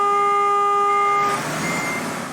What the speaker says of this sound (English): I showed you guys in the last video what the horn sounded like.